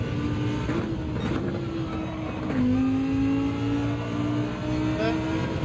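A race car engine in Gran Turismo 7 at the Red Bull Ring drones steadily at high revs, with a shifting pitch partway through and a constant, close mechanical whine under faint background noise.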